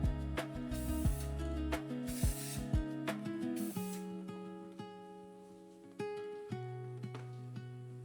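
Several short hissing bursts of high-temperature silicone spray paint sound close up, applied to a Triumph Scrambler 1200 XE exhaust, with a steady background tune playing underneath.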